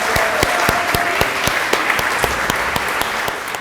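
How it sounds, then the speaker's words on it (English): An audience at an education awards evening claps, with sharp individual claps standing out over a dense, steady wash of applause. The clapping is fairly loud and continuous throughout, with no talk over it. "Please give a round of applause"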